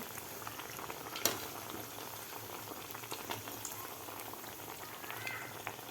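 Poha vadas deep-frying in hot oil, a steady low bubbling hiss throughout with a sharp click near the start, close and moderately quiet with no voices.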